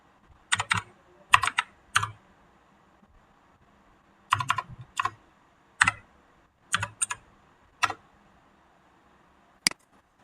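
Typing on a computer keyboard: short clusters of crisp, close key clicks come in irregular bursts separated by quiet pauses, with a single lone tap near the end.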